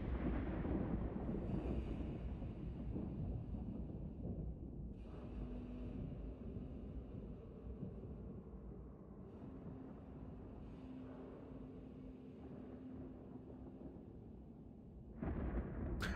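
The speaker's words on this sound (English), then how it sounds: "I just really like these ambient lightning and thunder sounds." Ambient rolling thunder in the video game The Outer Worlds, a steady low rumble with swelling peaks over about sixteen seconds, heard alone without talk.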